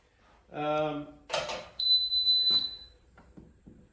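A sharp, high electronic alarm tone sounds for about a second after a short voiced noise and a thump, followed by quiet clicks and handling sounds, from a Teletek MAG2 conventional fire alarm panel set off, then silenced.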